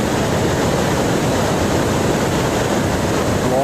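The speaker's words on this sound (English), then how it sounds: "Heavy water current at the tongue, at the end of the Kangla Glacier." A heavy, forceful meltwater current roars out from the tongue of the Kangla Glacier in the Pangi Valley, with a dense, continuous rushing that stays loud and close the whole time and no voices over it.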